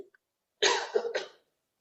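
A pair of rough, raspy coughs from a man with a two-month cough and fever, close by, the first longer and the second shorter, with silence before and after.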